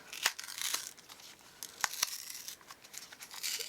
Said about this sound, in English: there's a pull tab on these paper cartons.